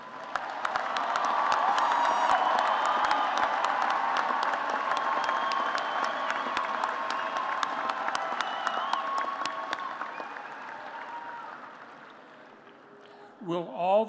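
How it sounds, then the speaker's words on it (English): A university commencement crowd applauding the College of Science graduates in a large hall, a broad roar of clapping with some cheers that slowly fades out, before a voice begins to speak at the end. "Let us applaud the candidates from the College of Science"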